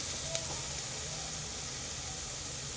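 Cabbage fries in a hot pan, giving a steady, even sizzle and hiss close by that never lets up.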